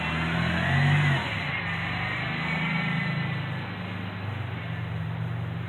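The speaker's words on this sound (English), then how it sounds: "That car don't sound right." A car engine that sounds rough and in need of a tune-up revs up, swelling for about a second, then settles into a steady mid-pitched drone that keeps running unevenly.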